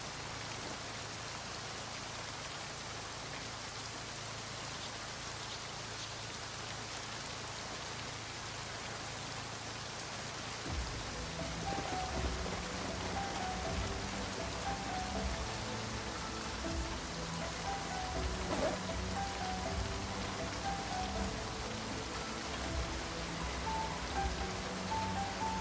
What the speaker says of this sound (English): Rain sounds so soothing.